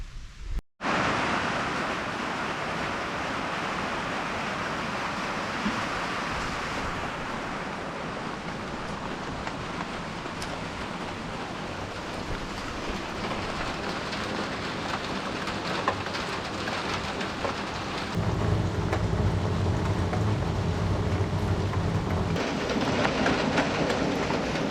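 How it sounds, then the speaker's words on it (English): Rain falls steadily on an off-grid cabin, a dense, even hiss that holds for the whole stretch with no voices. "It's raining."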